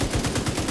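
Rapid bursts of gunfire in the co-op shooter The Division 2, several evenly spaced shots in a quick automatic rhythm, loud and close with no talking.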